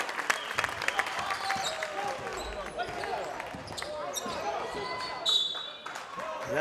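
Fans cheer and applaud at a high school boys basketball game, Diman vs. Bishop Connolly, with a steady crowd roar, sneaker squeaks and a ball bouncing under it.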